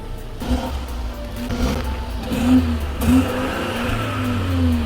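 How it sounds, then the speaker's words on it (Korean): A BMW X2 20i revving its engine, with its exhaust note rising and falling in several close, loud surges over a steady idle. "이번에는 배기음 가볼게요"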